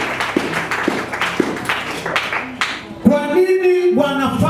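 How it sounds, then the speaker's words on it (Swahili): A church congregation claps for Jesus, several rounds of applause ringing out in a reverberant hall, while a preacher's amplified voice carries over and between the clapping. "Pigie Bwana Yesu makofi"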